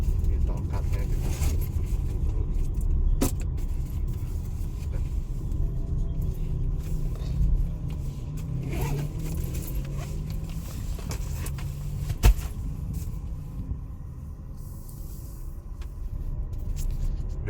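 Chery J6 electric SUV driving offroad, giving a steady low rumble of tyres and chassis on rough ground with an occasional knock, while people talk inside the cabin throughout.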